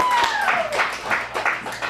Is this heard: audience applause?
yes